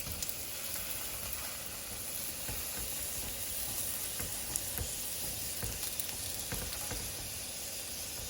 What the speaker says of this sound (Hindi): तो मैंने ये पहला पराठा जो देसी घी के साथ ही बनाया